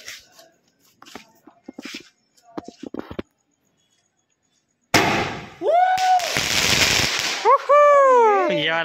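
Small fake firecrackers burst during a Diwali-style bomb session, with sharp crackling pops close by in the first three seconds, then a long loud hissing, whistling fizz of sparks that rises and falls.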